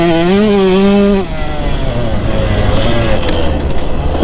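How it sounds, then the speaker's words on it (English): KTM 150 SX motocross dirt bike engine held wide open: a loud, raspy two-stroke whine holds a high pitch for about a second, then drops to a rough, lower, uneven drone that continues close and strong. "I got so low and just held it wide open"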